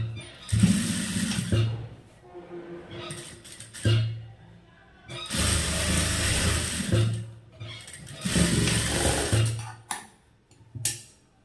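A tailoring sewing machine stitching a folded fabric edge in several whirring bursts of a few seconds each, separated by brief pauses and clicks.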